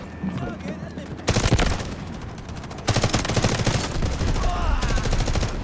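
Bursts of automatic gunfire in the Delta Force video game, two loud sustained volleys of rapid shots amid game ambience, with some in-game voice chatter.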